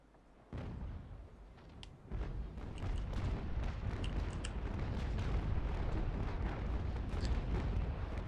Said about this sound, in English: So yeah, they're firing balls.